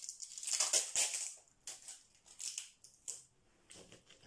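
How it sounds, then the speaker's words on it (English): A piece of tape pulled off by hand during diamond painting work, heard as several short, close, crackly ripping bursts with brief pauses between them and no voices. "I'm going to just get a bit of tape and pull it off."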